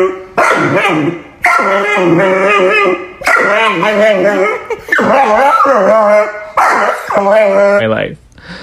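Repeated loud, drawn-out dog barks and howl-like yips coming in bursts, close and energetic, with short gaps between.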